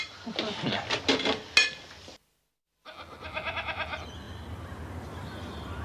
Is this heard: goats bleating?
yes